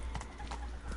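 A horse's hooves clip-clop in a steady, quick rhythm in the video game Witcher 3, faint and under a low background hum.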